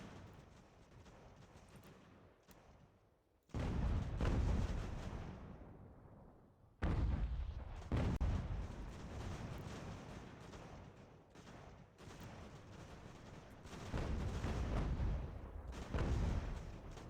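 Cannon canister fire in the video game Ultimate General: American Revolution produces a series of heavy booms, about six, spaced a few seconds apart, each with a rolling rumble that fades over a low battle din.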